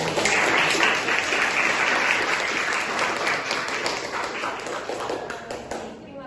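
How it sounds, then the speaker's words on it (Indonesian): Applause after a group's business communication roleplay: a steady patter of clapping from a modest audience, fading gradually toward the end. "kita kasih tepuk tangan ya."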